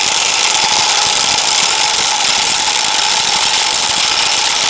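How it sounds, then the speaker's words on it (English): A large impact wrench with a 36mm heavy-duty socket tightens an axle retaining nut on a Dodge Ram, a loud continuous rapid hammering buzz that holds steady for several seconds and then cuts off abruptly. "Using the 36mm heavy-duty socket adapter, and large impact wrench,"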